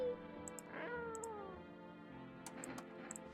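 A cat meows a few times, faint and mixed into a steady background hum with some ticking, in a video game setting; no voices are heard.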